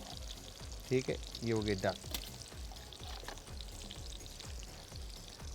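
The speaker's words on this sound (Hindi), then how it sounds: "तो यहाँ पर अनियन को लेकर हमने अच्छे से फ्राई करने के लिए ऑयल में ऐड कर दिया" Onions fry in hot oil with a steady crackling sizzle, while a person speaks briefly over the sound.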